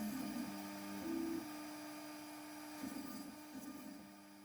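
A CNC router with a 1.5 mm end mill pocketing small areas of wenge laid over beech, heard as a faint steady whine with wavering tones that rise and dip as the cutter moves.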